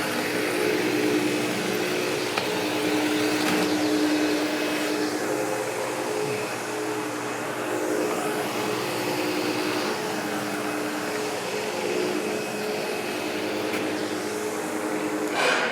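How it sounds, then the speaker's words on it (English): A vacuum cleaner runs steadily while working along the outer edges of a carpet, a continuous loud drone with a constant whine and no pauses, with no talking over it. "we couldn't just get that with the vacuum."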